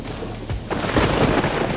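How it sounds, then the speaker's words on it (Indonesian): A thunderstorm rumbles over a river while rain patters steadily on the water's surface. The downpour hiss is dense and close, with a low thunder roll building beneath it. "Langit mendung dan rintik hujan mulai menyentuh permukaan air."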